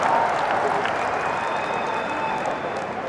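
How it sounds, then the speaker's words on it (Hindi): Crowd at a political rally applauding, a broad wash of clapping mixed with crowd murmur that holds steady and slightly fades toward the end. "ठोको ठोको ताली ठोको"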